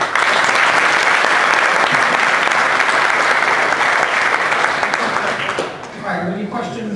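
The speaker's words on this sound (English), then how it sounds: "I have a round of applause." Sustained audience applause after a conference presentation on polar codes, loud and dense for several seconds before thinning out near the end.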